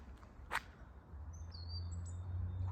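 In Sarıyer forest, a few faint bird chirps and short whistles sound at a distance, with a quiet low rumble rising in the background.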